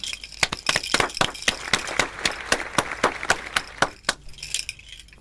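Audience applause for student bronze medal winners at an awards ceremony, heard as a steady run of sharp, distinct claps, loud and close, continuing for several seconds before thinning out.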